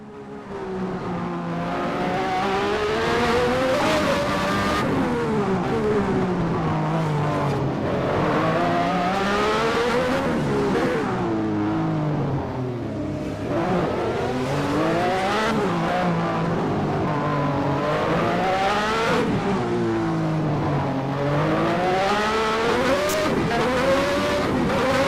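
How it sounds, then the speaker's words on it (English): A Lamborghini V12 in a 1991 Formula One car screams through the streets of Monaco in a racing game, revving up and down through repeated gear shifts, loud and continuous, with no talk. "let our viewers enjoy the Italian symphony that is the Lamborghini V12"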